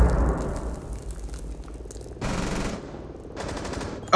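Two sharp bursts of automatic gunfire from Rainbow Six Siege, one about half a second long and a second shorter one, cut through a low rumbling game ambience on the Bank map.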